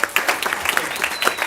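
Applause from an audience at a live-streamed local community event honoring a school team, short and steady clapping throughout, fairly close and moderately loud, with scattered individual claps standing out.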